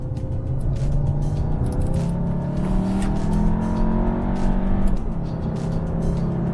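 A 2013 VW Beetle Turbo in sport mode with Tiptronic paddle shifters drives steadily, its engine droning and tires rumbling loud and continuous throughout, rising slightly in pitch as it pulls.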